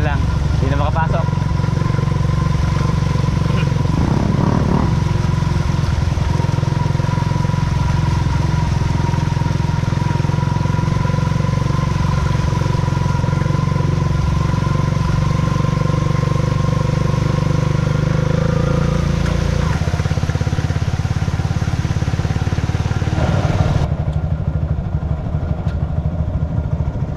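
Motorcycle engines idle and rumble nearby on a road as floodwaters recede near Lake View, a continuous mid-pitched drone with passing revs, and people talk over it.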